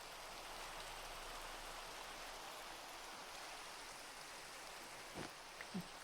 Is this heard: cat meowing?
no